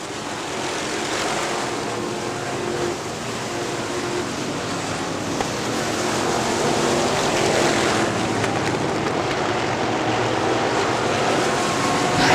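IMCA modified race cars at Crystal Motor Speedway roar into turn 3 running three wide, a loud, steady broadband engine drone that swells slightly toward the end with no pause.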